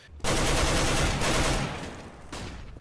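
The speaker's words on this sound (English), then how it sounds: "Originally in the CSGO beta, the AK, among many of the sounds from CS Source, were reused." Sustained automatic AK rifle fire from the CS:GO beta, which reused Counter-Strike: Source sounds, as one dense loud burst that stops briefly and then resumes.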